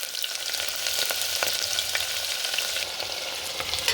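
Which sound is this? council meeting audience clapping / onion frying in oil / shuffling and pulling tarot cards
onion frying in oil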